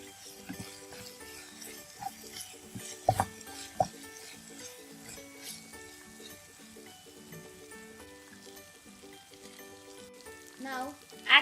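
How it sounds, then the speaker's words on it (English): Ginger garlic paste sautéing in a pan for prawn curry, a low sizzle under scattered clinks and stirring knocks, with a louder clatter near the end. "And saute it for 1 minute."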